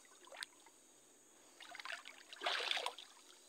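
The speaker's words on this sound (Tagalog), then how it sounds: "Ito yung sapa guys." A small forest stream trickles and splashes faintly in quiet morning woods, with a few soft gurgling bursts rising and falling over a near-silent background.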